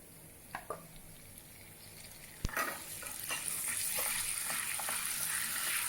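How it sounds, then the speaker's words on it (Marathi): Cumin seeds and butter hitting hot oil in a pan: a few faint drips, then a sudden sharp hiss that swells into steady, close sizzling frying. "3 चमचे तेल मी तापवायला ठेवलेलं आहे, त्यात आपण अर्धा चमचा जिरं टाकून घेऊया।"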